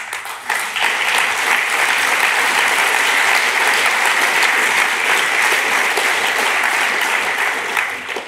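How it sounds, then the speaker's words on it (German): An audience claps at Dr. Eugen Drewermann's lecture on war and peace at a health-days event. Loud, even applause fills the whole stretch without a break. "Applaus"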